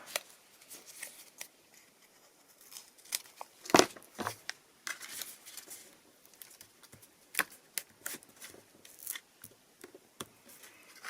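Paper being cut with scissors for a handmade flower picture card, a series of short crisp snips and rustles spread irregularly through a quiet close-up setting, with one louder snip partway through.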